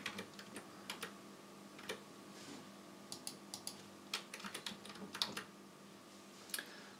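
Scattered light clicks of arrow keys pressed on a computer keyboard, some single taps and some quick clusters, close but quiet against a faint background hum.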